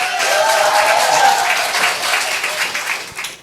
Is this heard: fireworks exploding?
no